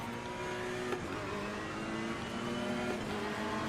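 A Ferrari 488 GT3 Evo race car in the Assetto Corsa Competizione racing game at Zandvoort, its engine droning loudly and steadily at high revs as another car runs alongside, with no talk.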